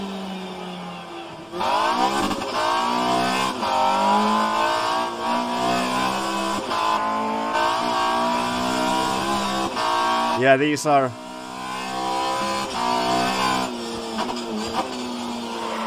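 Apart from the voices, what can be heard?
early 90s BTCC touring car engines, rFactor 2 video game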